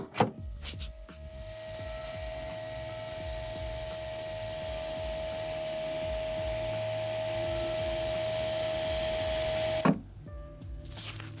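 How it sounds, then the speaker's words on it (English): A Mercedes W220 S-Class trunk latch mechanism whirs steadily for about nine seconds as it tries to release, a continuous close motor hum that stops abruptly with a click near the end. "So it tries to release the latch, but nothing happens."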